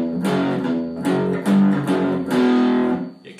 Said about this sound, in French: on va simplifier en ne grattant que la corde de Mi au lieu de faire un Mi en power chord